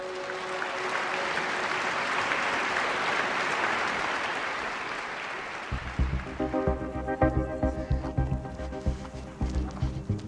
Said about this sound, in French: Faites un tonnerre d'applaudissements pour Angela Maas.